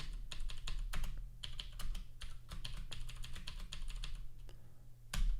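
Rapid, uneven tapping of keys on a computer keyboard, close and fairly quiet, with a steady low hum underneath and a heavier keystroke near the end.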